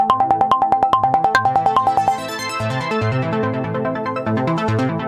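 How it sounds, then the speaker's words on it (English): A bright synth arpeggio ripples in quick, even pulses, then shifts into a fuller sustained synth texture with a low bass line underneath, with no voices. "I made this MIDI part. It's just a bunch of arpeggio stuff"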